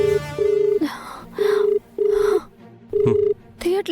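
An outgoing phone call rings out as repeated electronic ringback tones in short bursts and pairs, close and clear, with faint vocal sounds between them.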